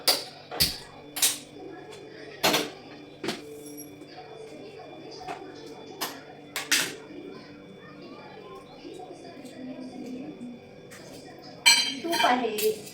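A metal kadhai and utensils are handled in a home kitchen while making sheera, giving sharp clanks and clinks scattered through the clip and bunching near the end, close and fairly loud over a quiet room with faint background voices.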